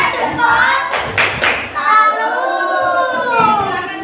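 Children in a teacher-training classroom session do a tepuk salut clapping chant together, a few loud group claps and thumps around a sung chant.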